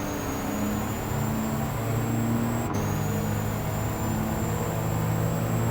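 A Honda S660 drives a lap of the Lago Maggiore circuit in Gran Turismo 7, its engine holding a steady high-revving drone with a quick gear-change break midway before the note settles again.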